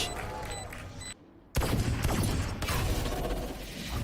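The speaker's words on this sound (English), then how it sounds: "First couple of shots to the Sheriff not landing." Sheriff pistol shots in Valorant during a Cloud9 vs 100 Thieves esports match, a few sharp, loud cracks after a short silence, followed by busy in-game action noise.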